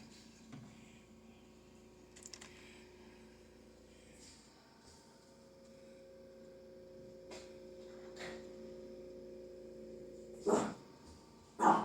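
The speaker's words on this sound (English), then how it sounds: "There goes my dog." A senile dog barks at its food with two or three sharp, fairly close woofs near the end, over a steady low electrical hum in a quiet room.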